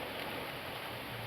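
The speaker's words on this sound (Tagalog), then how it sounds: "sobrang lakas na ng hangin, saka sobrang rami ng ulan, lakas din ng ulan" Steady, dense rain hiss fills the whole clip with no pauses and no voices, a continuous heavy downpour close by amid strong wind.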